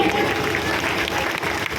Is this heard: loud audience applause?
yes